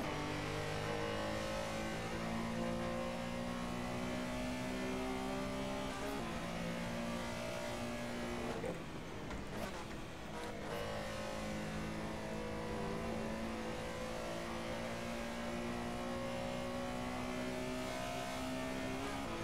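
A Porsche Carrera Cup race car engine in a sim racing game, screaming steadily at high revs through gear changes, with a brief lift off the throttle midway before it climbs again.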